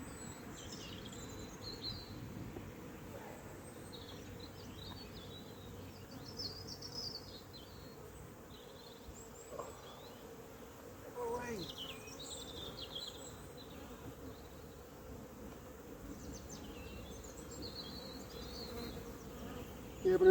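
Honeybees hum steadily around an open hive, a continuous low drone with scattered closer buzzing passes and faint, distant bird calls in the background.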